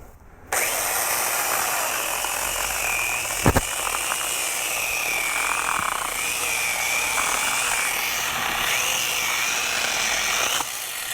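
An angle grinder fitted with a chainsaw attachment cuts through a thickening log limb, giving a loud, steady motor whine that runs almost without a break for about ten seconds, with no talking.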